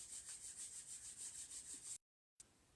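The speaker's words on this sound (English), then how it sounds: "rub the hands together" Palms rubbing briskly together to build heat, a steady swishing friction in repeated pulses, close and quiet, with a short pause near the end before the rubbing resumes.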